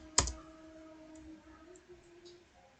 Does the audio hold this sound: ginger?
no